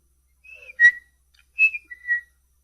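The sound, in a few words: whistling imitating a bird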